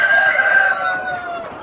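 A rooster lets out a single loud, close crow, the long strained call trailing off over about a second and a half.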